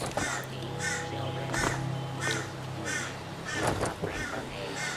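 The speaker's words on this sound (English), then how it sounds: "And that noise is a crow." A crow in the game Fallout 76 caws repeatedly in a steady series of harsh, evenly spaced calls over a low in-game ambient hum, moderately close and clear.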